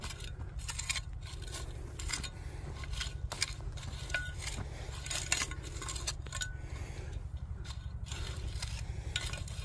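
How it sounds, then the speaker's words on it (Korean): A hand tool scrapes across garden soil in a spring vegetable plot, covering freshly sown pea, spinach and crown daisy seed. Steady gritty strokes repeat over a low background hum, close and continuous. "이걸로 싹싹 이렇게 긁어주겠습니다"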